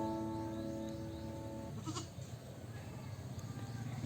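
A goat lets out a drawn-out, wavering bleat in a backyard goat farm in the Philippines, followed by quieter farmyard ambience with a faint voice in the background.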